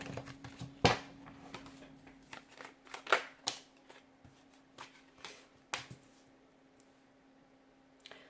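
Tarot cards being shuffled by hand, a quiet run of soft riffling snaps and papery slaps in irregular bursts, with a few sharper flicks standing out over a faint steady hum.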